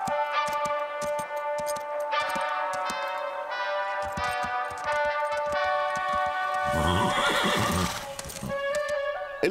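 Horses neigh and whinny over a steady musical backing during practice for a show, with hooves clip-clopping and a burst of broadband noise near the end; no one speaks.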